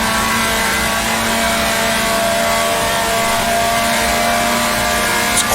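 A 1966 Formula 2 race car engine in Grand Prix Legends at Rouen roars steadily at high revs, a constant loud drone with a slight pitch rise near the end as it shifts into fifth gear.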